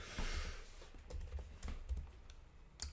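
Fingers typing on a computer keyboard, a quick, soft, uneven run of close key clicks in a quiet room.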